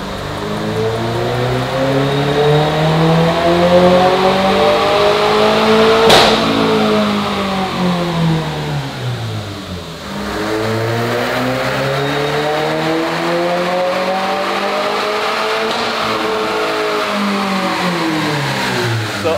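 Big-turbo Subaru WRX on a dyno, revving loud and close in long sweeping pulls, engine pitch climbing then dropping off around the middle before rising again, no talking.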